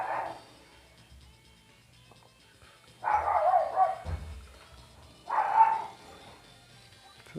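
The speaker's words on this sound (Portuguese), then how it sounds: "Será que é os cachorros vagabundos que estão ali?" Stray dogs barking outdoors, three separate bursts of barking at a moderate distance with quiet gaps between them.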